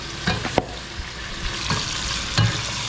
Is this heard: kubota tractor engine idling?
no